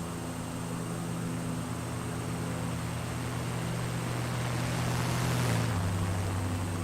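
A single-propeller aircraft passes overhead in a flight game over northern Tasmania, a steady droning engine hum that swells briefly near the end as it sweeps past, then settles back to a constant tone.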